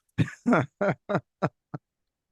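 A person clears their throat and coughs in a string of six bursts that shorten and fade, close and alone with no talk.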